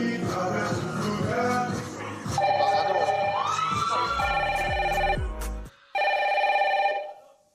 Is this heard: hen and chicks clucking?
no